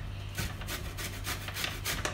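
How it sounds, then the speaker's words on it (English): Orange peel scraped across a grater in short repeated rasping strokes, a close, steady scratchy rhythm of about six passes, with no talking. "I grate through about most of the orange peel already"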